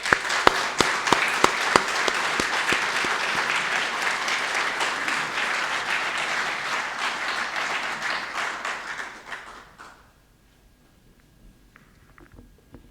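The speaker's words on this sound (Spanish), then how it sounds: "invito a los aquí asistentes a brindar un afectuoso aplauso a los suboficiales mayores que hoy nos acompañan" Warm applause at a naval retirees' association conference honouring senior petty officers, loud and dense from a large crowd, holding steady for about nine seconds before fading out into near silence.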